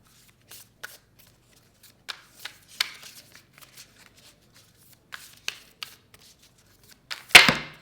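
Oracle cards are shuffled by hand in short, dry riffles and taps, a scattered series of quiet rustles ending in one loud, close clatter.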